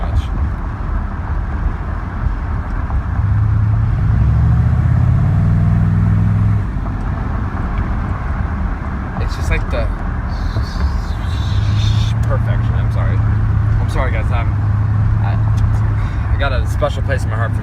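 Engine of a 1993 Chevy 1500 turbo diesel pickup truck running steadily and loud throughout, with a deep low rumble that swells twice as it revs, and a person talking over it.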